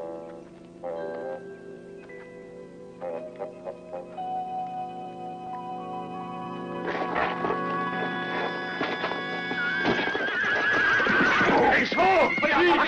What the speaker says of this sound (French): Mon cheval, Jesse! Mon cheval!